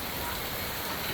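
Heavy thunderstorm rain in Lancaster, California pours down as a dense, unbroken hiss, loud and steady throughout.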